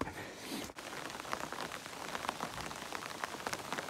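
Rain falls steadily on the Appalachian Trail while the sun is out, a dense close patter of drops hitting surfaces throughout, with one brief dip early on and no voices.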